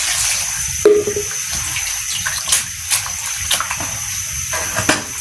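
Water runs steadily as water spinach leaves are washed in a home kitchen, a constant close rush with brief splashes and clunks scattered throughout.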